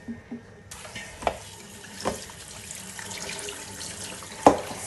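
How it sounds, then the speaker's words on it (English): Water runs steadily from a kitchen tap as chickpeas are washed, a continuous close splashing with a few louder clinks and knocks against the bowl or sink. "We have washed chickpeas."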